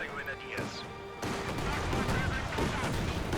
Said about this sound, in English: we've got pack howitzer shots into the garrison